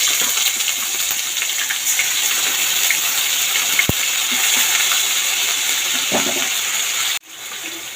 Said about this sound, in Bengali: এবার এটা ধুয়েই আমি জল দিয়ে দেবো।